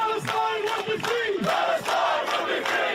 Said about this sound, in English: A rallying cry echoing from Greenacre.